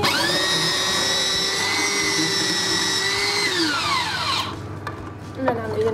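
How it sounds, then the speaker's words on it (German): A carrot is shredded by a motorized grater into a pot; a steady, loud high whine holds for about four seconds, winds down, then gives way to a few light clatters. "Also als erstes mal die Möhrchen oder die Möhre raspeln."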